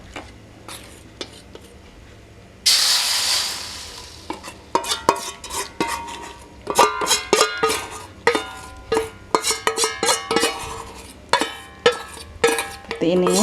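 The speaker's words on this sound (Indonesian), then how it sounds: "ini kita langsung masukkan ke wajan" Moringa dawet batter going into a wok over a low flame and then stirred: a sudden wash of sizzle and pouring, followed by repeated scraping and clattering strokes of a utensil against the pan, close and fairly loud.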